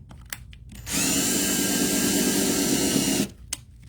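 A power drill whirs steadily for about two seconds at close range, with a few small clicks before and after.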